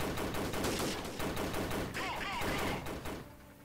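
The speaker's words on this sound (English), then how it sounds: "Damn, that MG gun is totally wasting them" Rapid machine gun fire rattles continuously in the video game Freeman Guerrilla Warfare, dense bursts of gunshots mixed with battlefield noise, fading out at the end.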